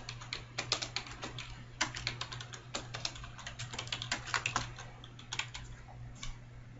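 Fingers type a keyword on a computer keyboard while editing a WordPress page, giving quiet, irregular bursts of close key clicks over a low steady hum.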